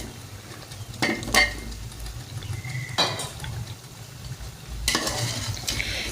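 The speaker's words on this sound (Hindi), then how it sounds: "अब इनको अच्छी तरह भूनूंगी जब तक ये गल नहीं जाते" A kilo of potatoes frying in a pot for an egg and potato biryani, a low steady sizzle with a few scraping, clinking stirs of a spoon against the pot, close and without speech.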